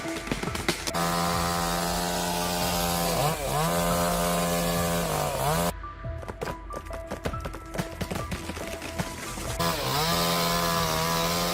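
Chainsaw felling a beetle-infested tree, its engine droning loud and close with steady revving, easing and surging as it cuts, then dropping out briefly before roaring back.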